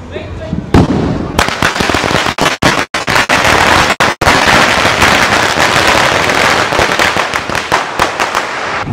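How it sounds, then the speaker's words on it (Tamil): A long string of Diwali firecrackers goes off in rapid, crackling bursts, loud and close, with a few brief gaps before the popping continues densely. "சரம் வச்சா வேறு லெவல் தாங்க அந்த சவுண்டு."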